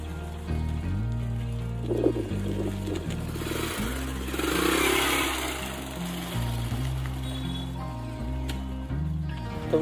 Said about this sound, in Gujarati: તો મિત્રો બાઇક પાર્કિંગ કરી દીધું છે